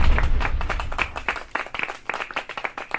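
A small group clapping along during a livestream, with quick, uneven hand claps that start loud and thin out, and some voices mixed in.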